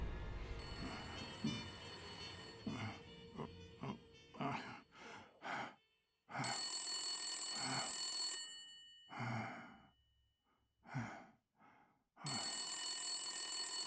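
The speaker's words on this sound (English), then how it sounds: "Is that the phone?" A telephone rings in the Blacksad: Under the Skin video game, bursts of bright ringing repeating with pauses between them over a quiet background.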